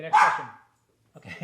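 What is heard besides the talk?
dog barking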